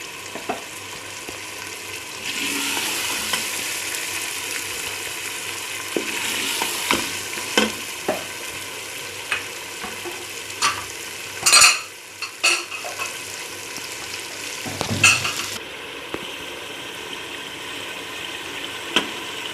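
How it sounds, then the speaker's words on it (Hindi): Taro (arvi) stir-fried in a masala sauce, with steady sizzling and frying under intermittent stirring, plus occasional clinks of a spoon against the pan. "इसी मसाले में इसको इतनी अच्छी तरह से भूनेंगे कि लेस भी ख़त्म हो जाए"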